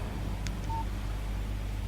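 In the video game Alan Wake, a phone text message alert gives one short, faint electronic chirp, then a brief tone, over a low steady background hum.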